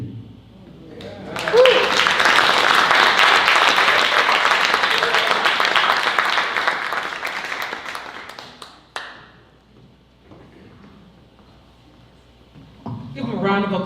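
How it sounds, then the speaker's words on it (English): An audience at a literary tribute event claps for an honoree. The applause swells quickly to a full, crowded roar, then thins and fades over several seconds into scattered claps and quiet, and a voice speaks at the very end. "Give him a round of applause."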